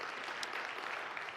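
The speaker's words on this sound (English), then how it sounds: "Yeah, you can definitely clap for that." Applause from a church congregation during a live Sunday service in Birmingham, a faint, steady patter of many hands heard from a distance with no talking.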